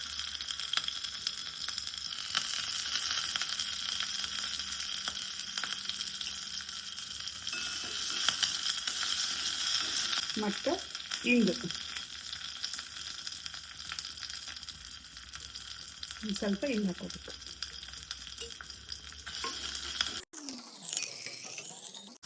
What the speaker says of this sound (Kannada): ಹಂಗೆ ಸಾಸಿವೆ ಪಟಾಪಟ ಅಂದ್ಕೂಡಲೇ ಮೆಣಸಿನ್ಕಾಯಿ